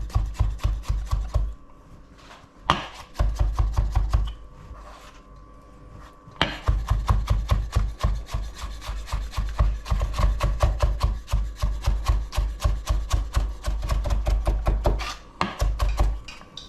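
A knife slices through cucumber on a wooden cutting board in rapid, steady strokes, each cut landing with a close, crisp knock. The chopping runs almost continuously, with two short pauses.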